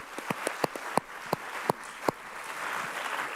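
A handful of sharp, separate claps from a small audience at a Shared Futures 2026 gathering, honouring the caterers, rings out over a few seconds before thinning into a soft, steady hiss.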